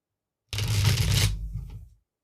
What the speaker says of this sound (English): I hope the shuffling sounds cool.